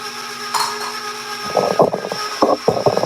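An electric mixer blends dry ingredients for a chocolate cake baked in cast iron, with a steady motor whine and then uneven loud rattling bursts as the beaters churn.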